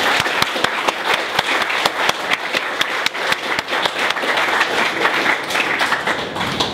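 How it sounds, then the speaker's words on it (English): An audience at the 2014 Joe Shuster Canadian Comic Book Creator Awards applauds a nominated comic shop: sustained, even clapping from many hands filling the room, with sharp individual claps standing out. "Round of applause for the"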